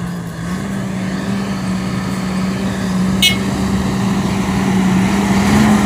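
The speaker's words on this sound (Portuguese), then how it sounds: "Caminhão saindo aqui do carregamento" A Mercedes-Benz Axor 3131 truck pulls away from a sugarcane loading area, its diesel engine droning steadily and growing slightly louder, with a brief high squeak partway through.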